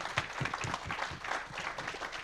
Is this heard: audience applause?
yes